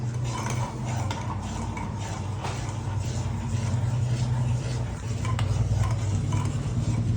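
A spoon stirs jowar flour ambil into buttermilk in a home kitchen, giving a steady, close scraping and clinking against the pot that carries on the whole time with no talking.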